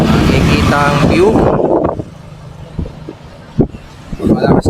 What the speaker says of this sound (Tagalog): Malakas naman ang hangin dito kahit maaraw.